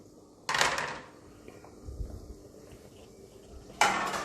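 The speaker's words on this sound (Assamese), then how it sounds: "এয়া মই ঢাকোন দি দিছোঁ" Metal lid clattering onto a cooking pot of Assamese khar, two sharp clanks at start and end with quieter kitchen rustling and a soft thump between.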